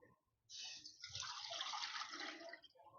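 Water pours steadily into a kadai on a stove for about two and a half seconds, a soft close splashing that starts abruptly and tapers off, faint overall.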